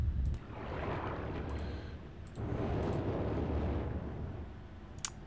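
Fire burning in the video game Myst: Masterpiece Edition, a steady low roaring rush with a brief lull, a faint crackle and a small sharp pop near the end, heard alone.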